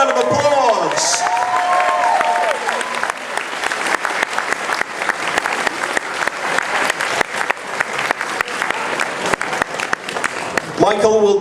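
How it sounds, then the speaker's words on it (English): Audience at the Auto Assembly 2015 opening ceremony breaks into loud, sustained applause with some cheering, after a voice at the start briefly overlaps and before a voice returns at the end. "Please give them a big round of applause."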